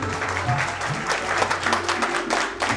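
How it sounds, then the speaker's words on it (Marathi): Hearty applause from a 1989 batch school reunion audience at Balak Vihar Vidyalay, steady massed clapping held throughout, close and full, with faint voices beneath. "तर एकदा जोरदार टाळ्या आपल्या मैत्रीसाठी"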